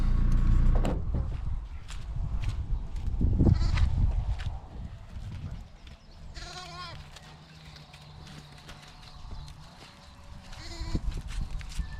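Ewes being brought in on a farm around shearing time bleat now and then amid shuffling movement and outdoor noise, with brief talk in between.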